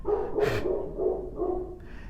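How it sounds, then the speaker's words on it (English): A dog barks several times at a ringing doorbell, with short, close, regularly spaced barks and a sharp higher yelp among them, in an indoor room. "Oh, that's my dog."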